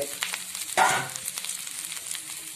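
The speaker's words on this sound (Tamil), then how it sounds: "இப்போ நாம வெந்து வச்சிருக்கிற உப்பு கார உருண்டைகளை அதில்" Hot tempering of mustard seeds and curry leaves sizzles steadily as steamed spicy rice balls go into the pan, with a brief louder burst of frying when they land and then a continuous close crackle.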